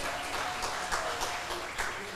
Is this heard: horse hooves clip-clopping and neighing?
no